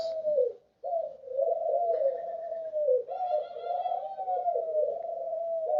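Pigeons or doves cooing close by, a steady run of soft, low, rolling coos repeating one after another with only a brief pause, no voices over them.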